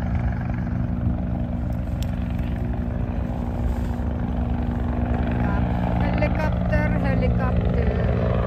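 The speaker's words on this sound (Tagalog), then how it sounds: "Helicopter." A helicopter flying overhead a women's road cycling race in the UAE, its rotor thumping as a steady, loud drone throughout, with someone talking over it.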